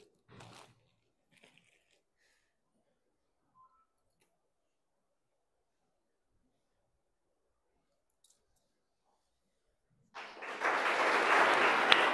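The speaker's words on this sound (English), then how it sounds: "A wonderful- huge round of applause" An audience at a guest lecture on girls' health and hygiene breaks into applause, dense clapping that starts abruptly after a long quiet stretch and continues to the end.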